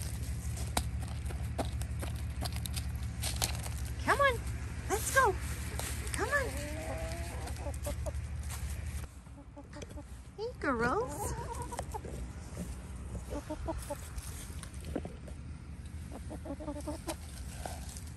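Chickens cluck and squawk in short bursts nearby over a steady low hum, while a person speaks softly now and then, at an auction in northern British Columbia.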